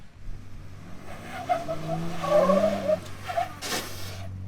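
An off-road Jeep or Bronco engine revs up with extra throttle while climbing over a bump, with a steady low drone, rising engine tones and a brief scraping burst near the end.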